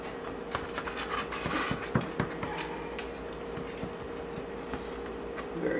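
A knife slicing into a cooled lentil and eggplant casserole, guided along a spatula, giving soft repeated scraping and cutting strokes close by, with light clinks of utensils and no talk.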